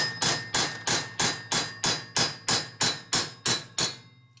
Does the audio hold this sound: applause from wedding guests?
no